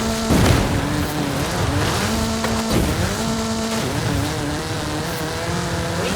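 The VUL 05, a track-focused supercar in Forza Horizon 5, drives with a continuous loud engine drone that rises and falls in pitch as it accelerates and shifts, with occasional tire noise and no talk.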